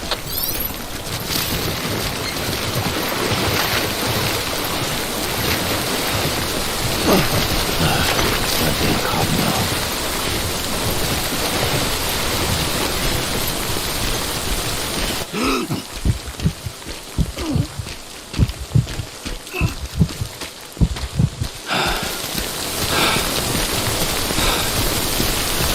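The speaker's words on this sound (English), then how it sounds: "Don't stay out in the rain any longer than you have to." Heavy timefall rain pours steadily in the video game Death Stranding, with deep thunder rumbling underneath, briefly easing into scattered drops and low thuds before the downpour returns.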